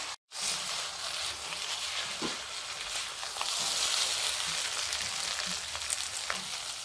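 Carrots and fenugreek fry in a pan, giving a steady, close hiss of sizzling with faint stirring scrapes throughout.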